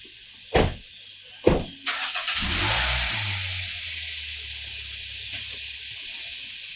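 A car starts its engine with a couple of sharp clunks and then settles into a steady hum and hiss on the way to Jensen Beach in Martin County, Florida, close and fairly loud.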